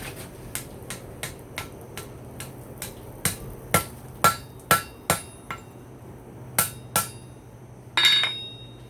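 Hammer blows forge welding a spike made from a fork, folded back against the shank: sharp metallic strikes in an uneven series, light taps at first, then heavier ringing blows, close and loud with short gaps.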